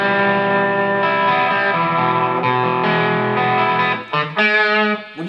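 Electric guitar power chords ring out through heavy distortion, sustained and loud, with one chord change and a few choppy strums near the end, no voice over them.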